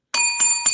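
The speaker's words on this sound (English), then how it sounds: "There's the bell" A bright metallic bell rings three times in quick succession, close and clear, each ring sustaining with a shimmering tone, during a wrestling podcast with no talking over it.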